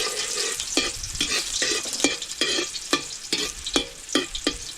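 Chopped garlic frying in hot cooking oil, with a bright, continuous sizzle broken by regular, rhythmic spatula strokes against the pan. It sounds close and moderately loud, with no voices.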